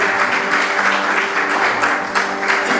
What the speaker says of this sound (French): Est-ce qu'on peut encore applaudir plus fort?